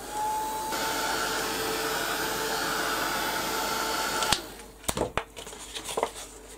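A hair dryer blows steadily up close for about four seconds, drying a freshly bronze-plated coin, then cuts off and is followed by a few sharp clinks and knocks of handling.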